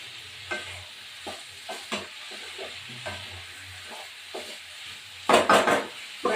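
Spices and vegetables fry and get stirred in a pan for a fish-head bottle-gourd curry, with a faint sizzle under repeated scraping stirs and a louder burst of clatter and sizzle near the end.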